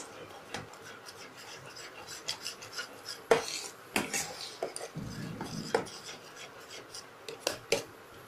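A utensil scrapes and rubs through a drying green pea kachuri filling in a pan, giving intermittent gritty strokes and occasional metallic clinks, close but fairly quiet.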